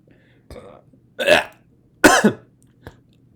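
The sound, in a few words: burps and a cough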